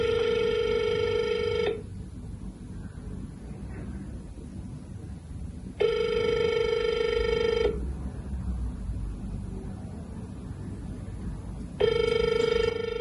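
A telephone line rings unanswered on a call to a Bucharest public health office, three long electronic rings spaced a few seconds apart, loud and alone over quiet line noise.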